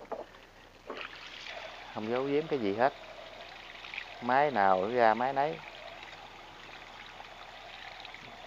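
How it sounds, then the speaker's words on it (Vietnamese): A Japanese Robin sprayer machine discharges water in a steady broadband rush that runs through the whole stretch, while someone talks over it. "Cái này xả nước ra"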